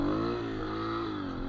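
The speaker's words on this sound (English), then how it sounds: "You pull up, give it some gas, let the clutch out." A dirt bike engine revs steadily as the throttle is opened for a wheelie, holding a loud, even, buzzing drone with a slight rise and dip in pitch over a second and a half.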